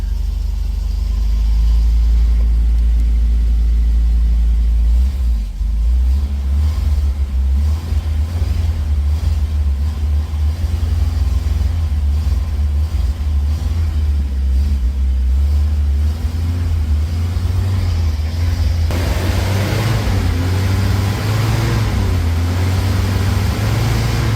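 An old car engine with no body fitted runs and revs, a loud, close rumble that swells and falls over about twenty-four seconds, roughening toward the end, with no voices.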